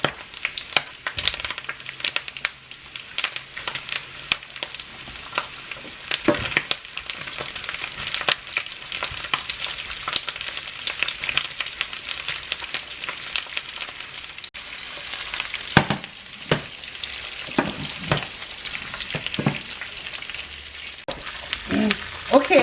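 Garlic and tofu stir-fried in a pan with pork belly, giving a steady loud sizzle broken by repeated scraping and stirring clatter.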